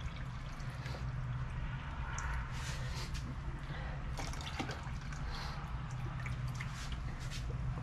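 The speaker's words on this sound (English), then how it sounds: "to each cup, I'm going to fill it all the way up with cool water" Cool water runs into a 32-ounce cup for yarn dyeing, a steady close trickle with small splashes and drips over a low background hum, moderately quiet and without talk.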